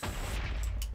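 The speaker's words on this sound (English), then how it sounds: "I just keep seeing explosions in the distance." Distant explosions in the Minecraft video game, a dense continuous rumble of low booms with a few sharper bursts near the end, no talking.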